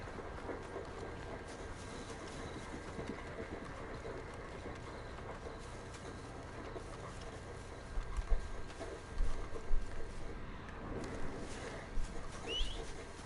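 Horse hooves clip-clop in the Red Dead Redemption 2 video game, a run of soft uneven thuds that grow louder toward the end over a steady outdoor ambience with faint birds.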